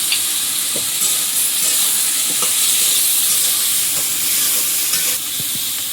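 Shrimp fry with salt and chopped onion in a pan, a loud, close, steady sizzle with intermittent stirring clinks and scrapes, no talking.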